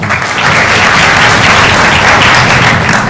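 An audience at the SciFest National Final 2022 award ceremony applauds a Social Sciences Award, with dense, steady clapping from a large hall that stays loud and even throughout, with no voices over it.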